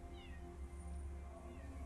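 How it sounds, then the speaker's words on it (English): A pet cat meows softly a couple of times, the thin rising calls faint over a steady low room hum, with no one speaking. "Oh, this is my cat."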